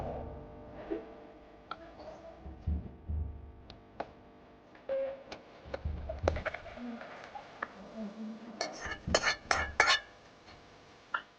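A cooking pot of boiled wild greens (sherni) is lifted off a village stove, giving a run of sharp metallic clinks and clanks close by, with brief talk and quiet gaps between the knocks.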